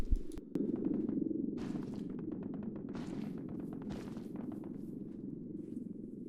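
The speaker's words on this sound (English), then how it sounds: "hopefully you heard the footsteps outside, so we know there are people close" Footsteps sound outside a building in the military shooter ARMA 3: a faint, steady series of soft, regular steps over a low background rumble.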